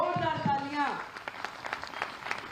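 Crowd applause erupts at a political address by the Delhi Chief Minister, dense clapping rising as a speaker's voice trails off and continuing steadily to the end.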